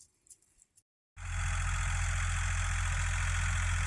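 A tractor engine idles steadily and loudly with a low rumble after a second of near silence with a few faint knocks.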